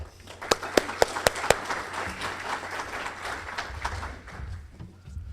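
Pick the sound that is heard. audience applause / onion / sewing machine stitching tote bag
audience applause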